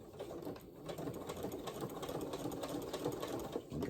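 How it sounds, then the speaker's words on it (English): A sewing machine stitches a quarter-inch seam through thick layers of a star potholder, giving a soft, even, continuous whirring hum at low volume. "So you're gonna sew down here till you hit about 1/4 of an inch and you're gonna stop."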